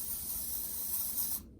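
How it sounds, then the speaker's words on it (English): Aerosol foot powder sprays from a can onto the face of a 6-iron golf club, a steady close hiss lasting over a second before cutting off abruptly. "take some foot powder. I've got a 6-iron here, and I'm just going to go ahead and spray it up here"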